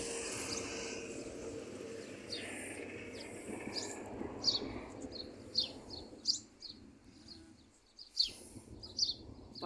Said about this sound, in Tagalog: Nasaan yung ibon na naririnig ko na eh?